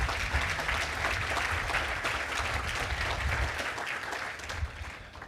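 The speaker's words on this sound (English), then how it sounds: "So to give her a round of applause." Sustained audience applause at the grand opening of the Moffitt Cancer Center SouthShore, a dense wash of many hands clapping steadily throughout, fairly loud and unbroken with no talk over it.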